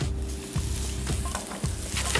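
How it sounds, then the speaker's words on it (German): Red onion and dried meat sizzle in olive oil in a pan while pasta is being prepared, giving a steady close frying crackle with a few soft stirring knocks. "Das kann schon mal ein bisschen brutzeln."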